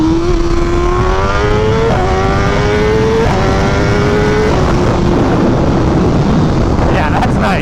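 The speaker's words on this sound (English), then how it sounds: "I want to try a first gear pull" A BMW S1000RR drag-setup motorcycle pulls hard in first gear, its engine note climbing steadily through the rev range before dropping away, loud and close with heavy wind buffeting.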